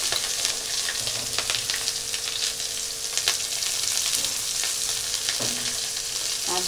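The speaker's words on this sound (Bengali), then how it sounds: "এইবার আমি পেঁয়াজ আর কাঁচা লঙ্কা দিয়ে দিলাম" Sliced onion and green chili frying in oil for egg curry, a busy close crackle and sizzle with intermittent stirring scrapes and light clicks, steady throughout and free of speech.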